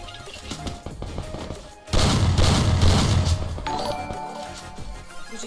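Gunfire in the Free Fire battle royale game: a dense burst of loud shots and impacts breaks in around two seconds and rolls on as a heavy sustained barrage before easing off.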